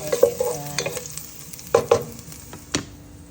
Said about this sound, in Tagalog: Bisahin natin para mabango.